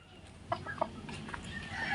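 Hens in Daddy Pete's small backyard gamefowl coop cluck in a few short, sharp bursts, close by, over a low murmur of farmyard background noise.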